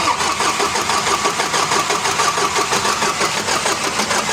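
An Isuzu 4HFI diesel engine with freshly timed rocker arms cranks and runs, giving a steady, loud mechanical clatter with a continuous rhythmic knock, close by and without voices.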